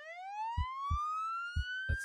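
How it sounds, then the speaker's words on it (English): A single siren tone sweeps upward, rising and brightening over about two seconds, with a few short low thumps underneath. "The ambulance is out."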